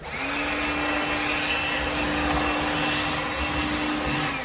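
Makita XKC02 cordless vacuum running, a steady close motor whine with an even airy rush throughout, no talk.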